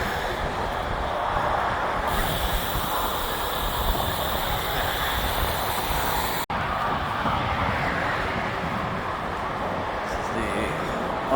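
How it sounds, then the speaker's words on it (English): Loud car traffic roaring past a bike trail beside an expressway, a steady broadband wash of passing vehicles with a brief cut partway through. "Uneventfully loud car traffic."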